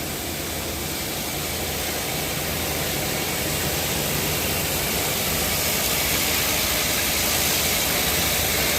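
A KNC6 R2 cabbing machine for lapidary work runs with its wheels spinning, giving a steady, even broadband whir and hiss that holds unchanged throughout with no other sounds.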